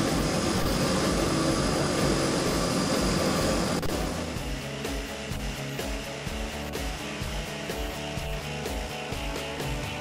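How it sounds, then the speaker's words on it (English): Float plane flying from Yellowknife to a remote Nunavut base camp, its engine a steady loud drone that fills the cabin throughout, slightly easing after a few seconds but continuing unbroken. "began their adventure with a float plane ride from Yellowknife into base camp"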